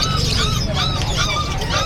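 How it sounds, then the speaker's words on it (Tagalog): Many caged birds at a pet market in Bocaue, overlapping chirps and tweets close by, with a busy crowd murmuring underneath. "Ayan oh, ang daming ibon na naman."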